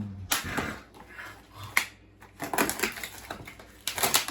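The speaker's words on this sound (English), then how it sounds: "We very discreetly open our pack." Plastic packaging around raw steaks crinkles and tears as it is pulled open, bursts of crackling and rustling film coming in uneven clusters with brief quieter gaps, close and fairly loud.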